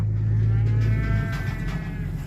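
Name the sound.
cattle mooing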